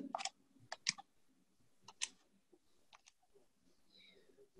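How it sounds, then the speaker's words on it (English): Sparse, light keystrokes on a computer keyboard in a quiet room, a handful of separate clicks scattered irregularly over a few seconds, close and soft. "I'm typing it in."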